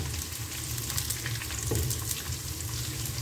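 Garlic turning light brown and chilies fry in a pan for chicken chili, giving an even, close sizzle with a faint bubbling undertone and no voices.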